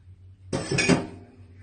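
A metal dough hook is pulled from a stand mixer bowl after kneading, giving a short, bright metallic clank and clink that rings briefly before fading.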